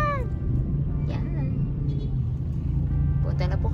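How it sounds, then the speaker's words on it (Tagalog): Steady road traffic and engine rumble heard from inside a car on a congested road, a continuous low drone with faint voices in the cabin. "Traffic nga lang."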